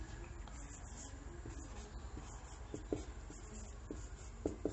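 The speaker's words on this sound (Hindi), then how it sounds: "तो सबसे पहले चैप्टर का नाम लिख लेंगे" A chapter heading written out for a chemistry lesson, with soft scratchy strokes of a pen or marker and a few sharper taps against a steady low background hum, and no voices.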